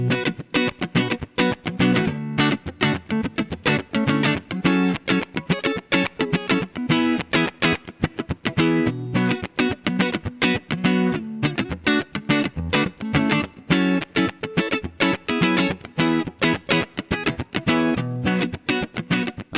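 Fender Stratocaster played in a tight, rhythmic electric guitar line with dense, evenly pulsing chords over a full backing groove, loud and steady throughout without any voices.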